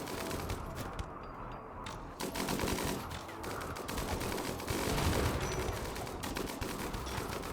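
Automated turrets firing in the survival video game Grasslands, a continuous dense rattle of machine-gun fire with mechanical clatter, steady and fairly loud throughout with no talk.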